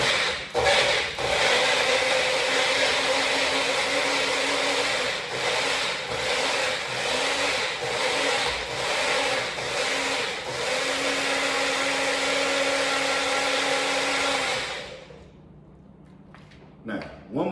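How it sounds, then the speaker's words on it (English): A blender whirs at full speed for about fifteen seconds, loud and close, blending a margarita wing sauce, its steady motor roar shifting in pitch as the contents churn, then stops abruptly, leaving quiet room tone and a final small knock. "Go ahead and blend this."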